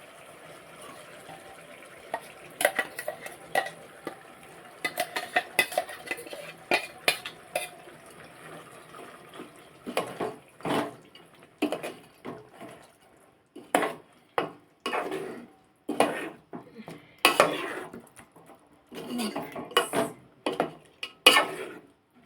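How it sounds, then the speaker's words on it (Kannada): Ground masala paste goes into a pot of chicken curry and is stirred, first a soft scraping and splattering, then a long series of sharp spoon knocks and thick wet sloshes against the pot, close and irregular. "ಇದಕ್ಕೆ ನಾವು ಮಿಕ್ಸಿ ಮಾಡಿರೋಂಥದ್ದನ್ನ ಪೇಸ್ಟ್ ಹಾಕ್ತೀವಿ"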